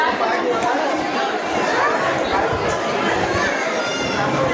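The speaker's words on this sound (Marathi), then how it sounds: "भरपूर गर्दी." Busy crowd chatter among many visitors at the Ganpatipule temple in Konkan, a dense close murmur of overlapping voices with no single speaker standing out.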